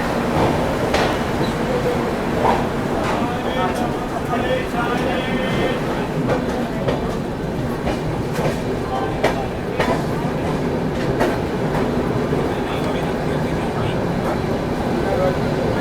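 Indore–Amritsar Express train rolling past on the rails, a steady loud rumble with rhythmic wheel clatter that continues throughout under some voices nearby.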